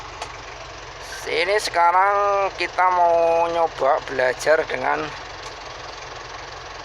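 A 4x4 jeep engine runs in low gear with a steady, low rumble underneath, while someone talks at length close by, his voice louder than the engine.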